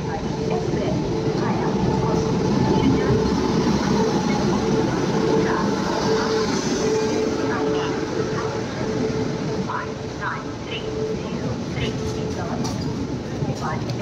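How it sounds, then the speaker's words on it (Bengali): The Shipra Express from Indore arrives at Ujjain station, a steady loud rumble of rolling rail cars dominating the platform throughout, with people talking beneath it. "আমাদের সিপ্রা এক্সপ্রেস চলে এসেছে ইন্দোর থেকে।"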